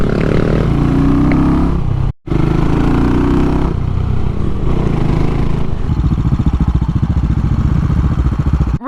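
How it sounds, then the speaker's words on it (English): A CCM Fleet motorcycle engine rumbles loudly and continuously, its throttle rising and falling, then settling into a rapid, chugging idle pulse. "traditional motorbike throttle response, like chug chug chug"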